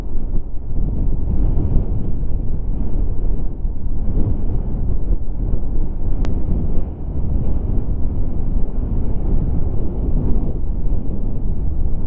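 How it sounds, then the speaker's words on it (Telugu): Strong wind buffets the microphone on a Yamaha R15 motorcycle ride from Leh to Turtuk, a loud continuous low roar and rumble with no let-up. "దారుణంగా వస్తుంది గాలి నాకైతే"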